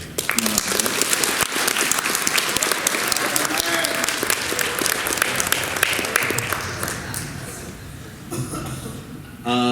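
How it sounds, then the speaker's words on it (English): Applause from an audience at a 2024 high school graduation ceremony, a steady wash of clapping filling the hall, with a few chuckles and faint voices mixed in before it tapers near the end. "as you can tell by the claps in the back"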